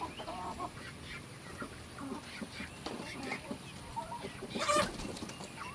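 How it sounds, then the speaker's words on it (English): Several free-ranging chickens cluck and murmur nearby in soft, scattered calls on a rainy day, one louder squawk standing out briefly against a steady outdoor background. "I have my chickens out and they're free ranging."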